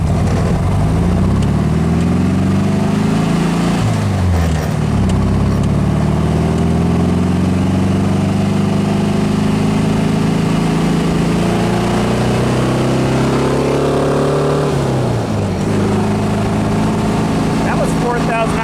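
A car with a single-port 1776 engine revs up through the gears on a break-in drive, its loud engine note rising in pitch, dropping at two gear changes, then climbing again from inside the cabin.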